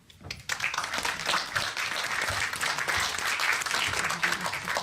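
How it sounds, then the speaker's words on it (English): An audience at the Balkan New Film Festival 2018 opening applauds the cinema staff, a sustained wash of clapping that rises sharply after a quiet start and holds loud and even throughout. "An applause to them."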